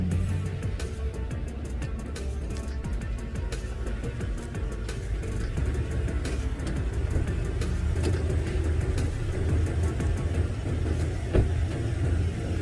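Pickup truck fitted with Flashark upper control arms and a leveling kit pulling away on its first test drive, a steady engine hum with road noise that swells slightly as it gets under way.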